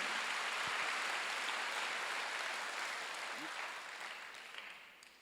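A church congregation claps at a Sunday worship service, a soft, steady wash of applause heard from a distance that slowly fades out.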